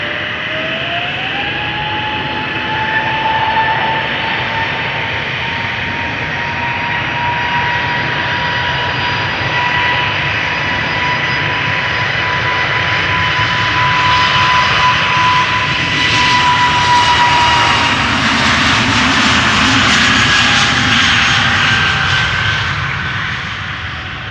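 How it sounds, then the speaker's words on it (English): An EasyJet Airbus A320neo, about three years old, departs toward London Luton from the Polderbaan runway at Amsterdam Schiphol, its engine roar building into a loud, steady whine that swells slightly before easing, with no voices. "EasyJet A320 Neo going to London Luton."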